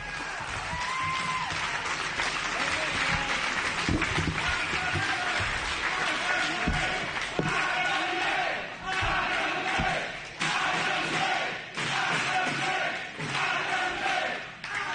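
The IWA wrestling crowd cheers and applauds after a JC Bailey vs Madman Pondo match ends in a draw. The noise is a dense, sustained roar of clapping and shouting with thuds, and a commentator speaks over it.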